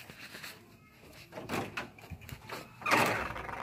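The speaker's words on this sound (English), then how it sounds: "Shut this door when you're back." A door is pushed shut indoors before someone heads outside, with a few soft scuffing and sliding knocks followed by a louder closing thud near the end, close by and without talk.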